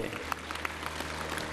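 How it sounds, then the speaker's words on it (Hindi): An audience claps together at a yoga and Ayurveda talk, a short burst of steady applause close by, with a voice partly over it. "एक बार ताली बजाओ"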